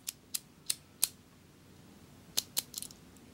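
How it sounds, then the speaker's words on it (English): Sharp, crisp metallic clicks from door lock pins as a key is pushed in: four evenly spaced ticks, a quiet pause, then a few more quick clicks, close and otherwise silent. "I love the sound of those pins clicking into their special positions."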